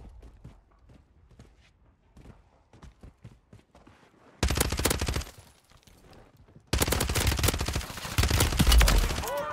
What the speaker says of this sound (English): Shoot your fucking gun.